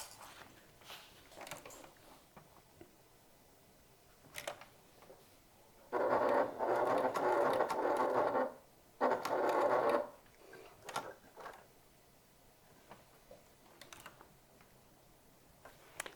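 A sewing machine stitches a top handle bag in two loud whirring runs of about two seconds each, separated by a short pause, with soft handling clicks and rustles before and after.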